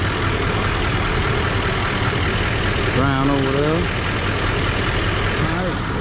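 A diesel truck engine idles with a constant heavy low rumble throughout. A voice speaks briefly partway through over the engine noise.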